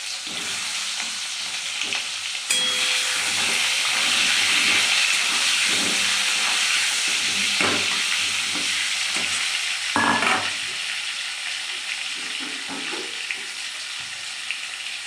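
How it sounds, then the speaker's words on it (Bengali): Potato pieces fry in hot oil in a home kitchen, giving a loud, steady sizzle and hiss with occasional stirring clatter and utensil knocks. "এই যে তেলটা আমার গরম হয়ে গেছে, আলুটা ছেড়ে দিয়ে আলুতে এই যে হালকা ভাজা হয়ে যাবে"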